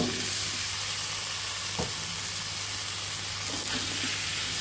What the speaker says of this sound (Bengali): এখন ভালোভাবে কষিয়ে নিতে হবে